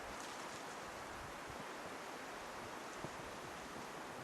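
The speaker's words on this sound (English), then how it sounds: "As you can see it now, it is quite breezy." Wind blows across a breezy mountain campsite as a steady, moderately quiet broadband rush with a soft gust near the end. No one speaks.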